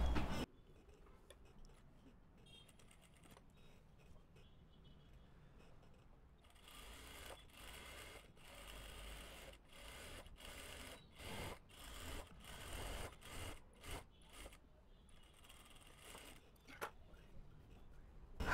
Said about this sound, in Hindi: पूरा गोलाई में सिलाई कर देते हैं